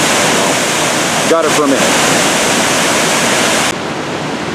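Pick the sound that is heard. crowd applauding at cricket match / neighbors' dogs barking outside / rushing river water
rushing river water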